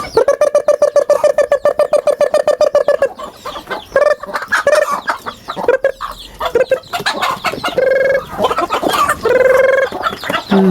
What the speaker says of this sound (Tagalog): Ganyan magtawag ng manok,